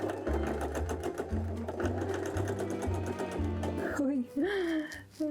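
A sewing machine stitching boning channels on an Edwardian corset runs in close, steady bursts with a rhythmic mechanical whir. Near the end it stops and is followed by a short vocal sound.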